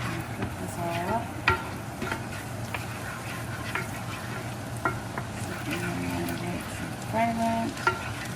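Minced garlic sizzles in a pan for spaghetti carbonara, making a steady crackling fry with occasional stirring scrapes and clinks throughout, with no talking.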